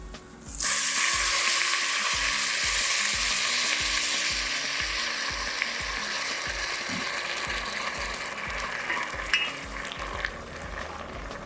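Risotto sizzling hard in a pan as vegetable broth goes in after the wine has cooked off, a sudden loud hiss that settles into steady frying under rhythmic stirring and scraping.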